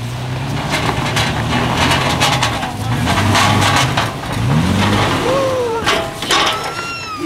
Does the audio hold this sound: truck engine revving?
yes